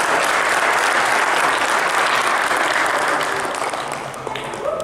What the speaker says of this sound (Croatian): Dajte jedan aplauz.